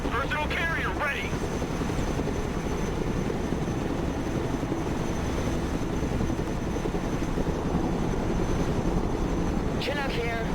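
A Chinook helicopter in the video game Broken Arrow gives a steady, loud rotor drone throughout, with short radio voice chatter heard briefly near the start and end.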